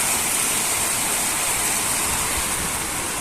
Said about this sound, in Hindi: तेज बारिश हो रही है, पूरा अंदर तक आ रहा है।